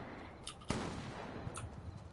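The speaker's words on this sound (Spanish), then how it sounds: "Se están liando ya cañonazos" Cannon fire in a video game: a few muffled, distant booms, one sharper blast standing out among softer thuds, all fairly quiet.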